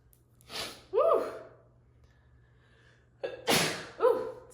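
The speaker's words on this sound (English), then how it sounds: "Oh my God, the sage is gonna make me sneeze." Two sharp sneezes triggered by burning sage, each a quick intake of breath followed by an explosive burst, close and clear in a quiet room.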